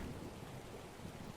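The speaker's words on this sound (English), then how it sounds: "Can you guys hear the rain?" Steady rain falling outside, a continuous even hiss of drops with no breaks, soft and distant, heard alone.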